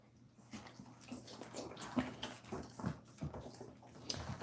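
Faint, soft whimpers and small yips from puppies, scattered irregularly over quiet shuffling and patter.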